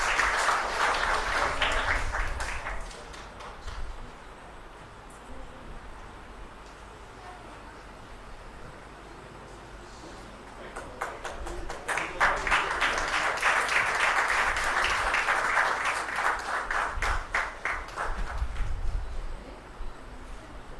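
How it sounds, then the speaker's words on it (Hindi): An audience at a ceremony in Dehradun applauds a schoolgirl brought on stage to receive low-vision glasses from the President, with two swells of sustained clapping separated by quieter crowd murmur. "जोरदार तालियों से स्वागत"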